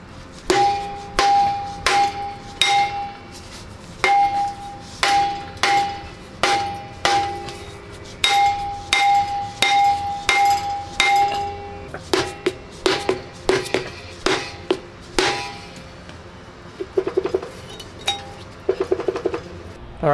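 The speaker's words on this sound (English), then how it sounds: "I got one of these dead blow hammers, or you can just use a regular hammer as well." Repeated dull, heavy dead blow hammer strikes on a stuck brake drum, steady and close, with a faint ringing tone after many strikes, quickening into rapid clusters toward the end.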